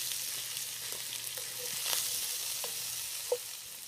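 Ground hamburger and vegetables fry in a pot with no liquid, giving a soft continuous sizzle with a few light stirring scrapes and one small clink.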